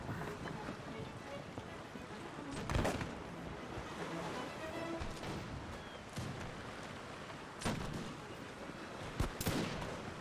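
Cannon fire from warships in the naval battle game Empire Total War, with several booming shots at irregular intervals over a continuous rumbling battle din.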